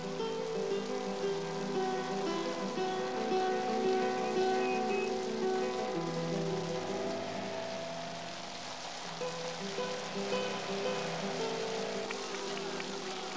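Torrential rain pouring down during a cycling race, a dense steady wash of falling water with some underlying tonal murmur, continuous for over ten seconds.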